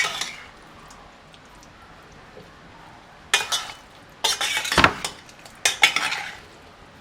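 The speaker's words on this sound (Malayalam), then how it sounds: "ഇനി ഇതൊക്കെ നല്ലോണം ഒന്ന് മിക്സ് ചെയ്യാം നമുക്ക്" A utensil scrapes and clinks in a pan while masala spices are mixed, likely a fish marinade, quiet at first, then bursts of stirring and metallic scraping in uneven strokes, no talking.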